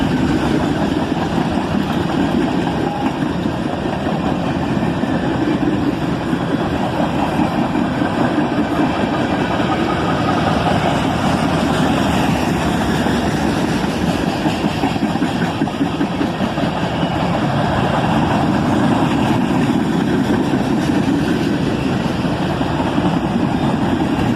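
A diesel locomotive on a four-locomotive train rumbles steadily as it picks up speed, a continuous, close, heavy engine drone with vibration and no voices.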